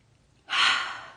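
A single deep, airy inhale taken close to the microphone during a guided forgiveness meditation about food and the body. It swells quickly, then slowly tapers off with no talking.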